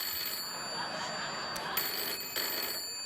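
A telephone rings on a late-night talk show set, with a steady trilling ring that pauses briefly and then starts again over a background hum.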